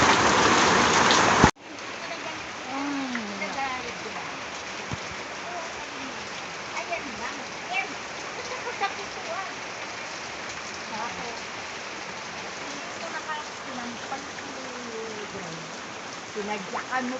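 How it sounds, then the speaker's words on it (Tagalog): Heavy rain drums steadily on a roof in a continuous loud wash, preceded by a brief louder burst at the start, with faint voices occasionally audible underneath. "tambay muna dito sa may bubong kasi ang lakas ng ulan"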